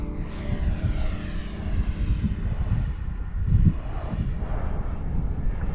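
A Freewing Vulcan RC jet roars steadily nearby as it takes off, a loud continuous engine whine that swells around the middle, with some wind buffeting the microphone.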